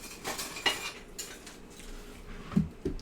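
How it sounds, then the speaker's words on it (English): A whisk clinks and scrapes against a bowl while cookie batter is mixed, producing scattered sharp taps and rattles with quieter stirring between them. The whole thing sounds fairly faint and close by. "let's just whisk it all together"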